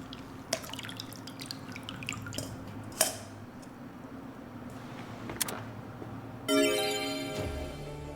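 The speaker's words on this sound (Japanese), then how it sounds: "次は50度のお湯で3から4回お豆を洗います。" Coffee beans are washed in 50-degree hot water before hand-net roasting, with scattered drips and splashes followed by a steadier stream of pouring water, quiet and close.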